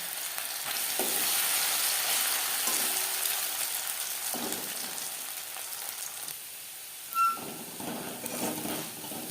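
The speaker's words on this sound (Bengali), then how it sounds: "চাষ করার জন্য আলুও ভেজে নেব" Potatoes sizzle steadily in hot oil as a side for tuna fish pakora, a continuous close crackling hiss with small dips and a faint higher pop near the end, no voices.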